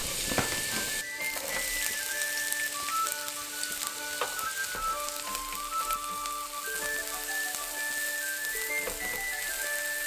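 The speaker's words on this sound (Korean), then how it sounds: "기름을 두른 팬에 다진 마늘과 양파를 볶아준다" Minced garlic and onion stir-fry in an oiled pan, giving a steady bright sizzle throughout with faint stirring clicks, while soft background music plays along.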